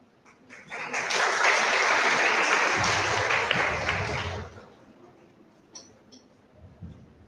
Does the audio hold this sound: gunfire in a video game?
no